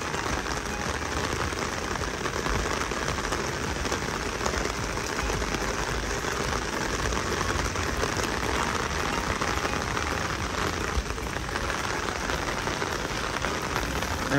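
Steady rain pours outside a villa at Whiterock Beach Resort by the sea, a dense, even hiss of drops striking surfaces, close and constant throughout with no voices.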